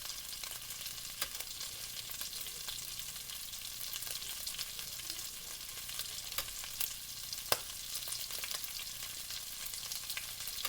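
Flour-coated gray and fox squirrel legs fry in a skillet of hot oil, giving a steady, dense sizzle with occasional sharper pops and crackles, close and unbroken.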